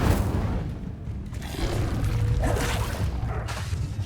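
The Incendio fire spell is cast in Hogwarts Legacy, giving a loud, dense whooshing blast with a booming low rumble that holds steady for several seconds, alone with no talking.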